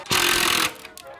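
An impact drill tightens the tension lugs on a drum, one loud sustained burst of hammering rattle lasting about half a second, followed by a couple of faint ticks.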